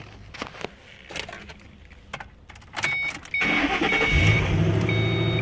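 A car engine starts up at an auction after a few knocks and clicks, then settles into a steady mid-pitched idle that carries on loudly to the end.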